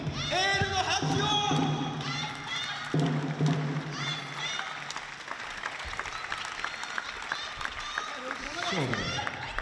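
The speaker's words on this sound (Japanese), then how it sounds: "改めて町安田にエールの拍手を。" Crowd applause for the players at a table tennis match in a gymnasium, a steady wash of clapping that carries through the clip under an announcer's voice.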